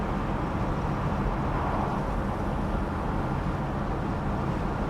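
Steady in-cabin drone of a Mercedes-Benz W111 250 SE Coupe cruising straight down the road, an even low engine and road rumble with no voices.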